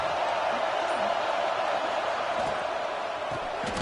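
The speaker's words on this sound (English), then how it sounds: "This crowd is trying to inspire this defense to make a big red zone stop." Stadium crowd noise from a college football video game in a red zone defensive stand, a steady loud roar of many voices that stays even throughout with no break.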